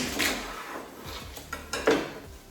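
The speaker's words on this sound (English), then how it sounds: "I'm just going to chop the ends off of the asparagus" A knife chops the ends off asparagus on a board, with a few sharp, close taps near the end among faint kitchen clatter and rustling, and no talking.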